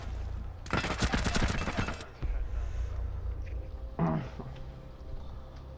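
Suppressed SMG gunfire in Rainbow Six Siege: a fast, muffled burst of about a second and a half, followed by a softer single crack and a brief clatter, moderately loud.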